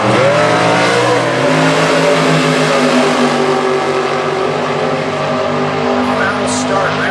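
Super Gas drag race cars launch at an Indy drag strip with a loud, sustained engine roar, revs climbing in steady harmonic sweeps and filling the whole clip, with a track announcer's voice faintly mixed in.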